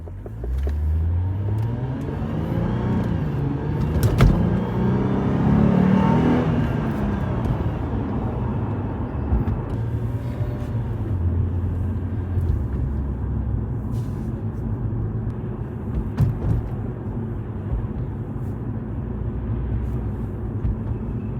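A car accelerates across an empty parking lot on a performance test run, its engine note climbing steadily and rumbling loudly and close for the whole stretch, with no talk.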